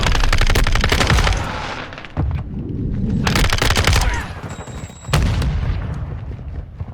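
Video game gunfire in Modern Warfare 2 multiplayer: loud rapid automatic bursts in several clusters, with booming impacts between volleys.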